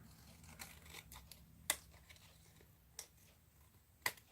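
Scissors trim paper or ribbon while a farmhouse-style Christmas decoration is being made. Three sharp, separate snips stand out against near silence, with no talking.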